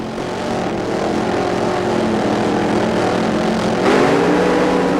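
Drag racing cars launch off the line at the 1993 NHRA Western Auto Sports Nationals in Topeka, their loud engine roar climbing in pitch and surging louder near the end, heard without talk.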